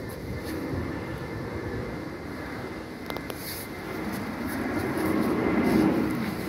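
A fixed-wing airplane passes high over a forest, a broad, steady engine drone that swells gradually toward the end, heard from far off with no speech.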